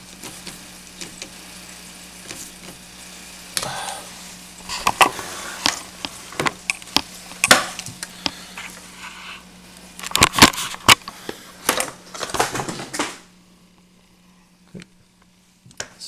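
Metal bolts being tightened down on the bottom of a Y-axis motor mount holder: irregular clicks, taps and ratcheting scrapes in bursts, loudest near the end and then falling quiet, over a steady low hum.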